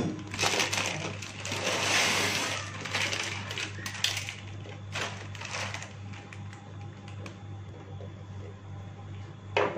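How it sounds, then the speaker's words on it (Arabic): Dry pasta from a plastic bag pours into a cooking pot in a home kitchen. The bag crinkles and the pieces rattle and clatter in a steady stream, with a low hum underneath. "كيس المكرونة هو هفتحه وأحطه"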